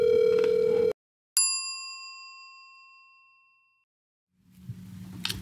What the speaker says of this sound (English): I am going to FaceTime my mother